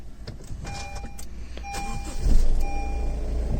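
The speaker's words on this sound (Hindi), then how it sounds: "अब आप सुन रहे हो ना, ये इंजन नॉइज़ है भाई इसकी।" A Honda diesel car engine with 80,000 km runs with a steady low rumble that swells partway through, alongside faint clicks and thin whining tones, close by.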